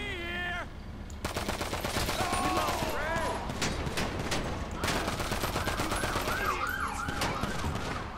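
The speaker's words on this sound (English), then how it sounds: "That's an actual siren going past." A real emergency siren wails past outside, its rising and falling tones sweeping over loud gunfire from a GTA 5 Online game session playing in the room.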